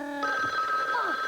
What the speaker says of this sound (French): vite, le téléphone.